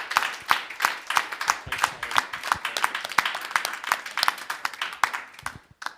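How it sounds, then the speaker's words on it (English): A small audience at a Miami business mastermind gives a speaker named Mark a round of applause: sparse, uneven individual claps, fairly close, with a faint voice underneath, tapering off toward the end. "Another round of applause for Mark as he heads out"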